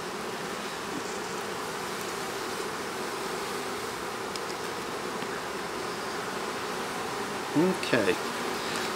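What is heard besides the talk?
honeybees buzzing at an open hive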